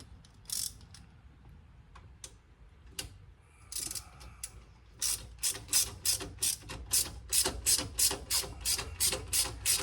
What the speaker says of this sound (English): the long extension bar with the regular ratchet